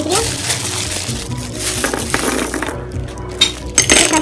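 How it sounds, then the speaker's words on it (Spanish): Small decorative glass gems clinking and tapping against each other as they are handled during a jar-decorating craft session, a quick scattered series of light clicks close by. "Tengo también gemas. Las gemas son estas cositas bonitas de como de vidrio."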